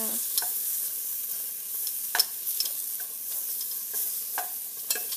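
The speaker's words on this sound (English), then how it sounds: "I do want to roast the chilies a little bit." Chilies roast and sizzle in a hot pan, a steady soft frying hiss throughout with occasional light scrapes and taps of stirring.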